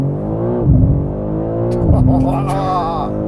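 A 2024 BMW M3 CS with a 3-liter twin-turbo inline six accelerates hard from a launch-control start, its loud engine note climbing in pitch and dropping at two gear shifts.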